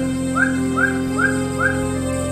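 A person whistles a short rising-falling tune of four repeated chirping phrases, steady and evenly spaced, heard close over a constant background hum.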